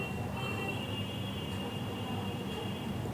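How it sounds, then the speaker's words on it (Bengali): A train moving off at Dhaka Airport Railway Station gives a steady, loud rolling rumble with a thin, sustained metallic wheel squeal running throughout, with no voices. "এই তো ট্রেনটা আবার চলছে"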